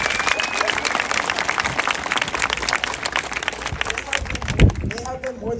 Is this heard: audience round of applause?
yes